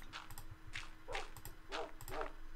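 Dogs in the Minecraft video game: several short, quiet yips and barks spaced irregularly, faint and distant under low background game noise.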